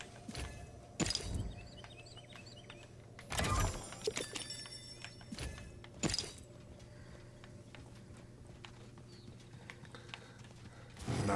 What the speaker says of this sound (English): Definitely hear a horse.